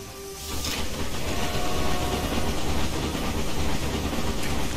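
Railway Empire train rumbling along the rails, a steady dense clatter and low drone throughout, fairly loud, with no voices.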